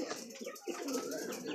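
Deshi kakji pigeons on a small pigeon farm coo in soft, rolling, overlapping calls, close and continuous, with faint background chatter.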